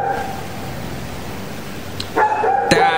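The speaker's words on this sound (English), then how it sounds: "my lame as crap neighbor has a dog, and this dog sounded like this at 4 o'clock in the morning this morning" A recording of a neighbor's dog barking at night plays back in a room, yipping barks muffled at first and then sharper and louder toward the end over steady background noise.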